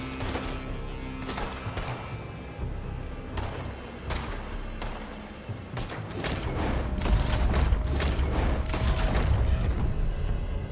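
Gunfire in Red Dead Redemption 2 rings out in repeated sharp shots and bursts, growing denser and heavier with booming rumbles toward the end, fairly close and loud.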